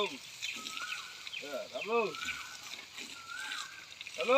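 Water splashes and sloshes as a mother and her young bathe together in the cool morning air, with someone talking over the fairly steady splashing.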